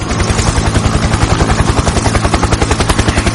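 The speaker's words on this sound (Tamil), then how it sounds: "சாம் ஷீபா கூட ட்ரோன் ஹெலிகாப்டர் விளையாடிட்டு இருக்கா." Steady rapid whirring and chopping of a toy drone helicopter's small rotor, loud and close, running continuously without pause.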